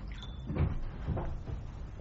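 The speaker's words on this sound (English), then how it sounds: "I heard the front door open and close." A front door opening and then closing, used as a sound effect in an audiobook reading: a few soft, muffled thumps and knocks, quiet and close, with no voices.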